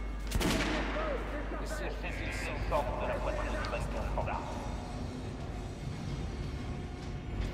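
Gunfire in the video game Metro as a dummy is shot, a burst of rapid close shots at the start followed by further scattered shots under steady in-game noise and talking voices.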